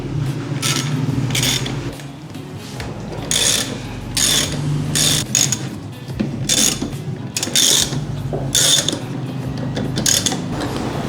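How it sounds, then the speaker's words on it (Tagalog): Repeated ratcheting clicks in bursts as the four grab bar bolts are loosened on a Kymco Xciting S 400i scooter, close and fairly loud, with brief pauses between the runs of clicks. "Tanggalin din natin itong apat na bolt ng grab bar."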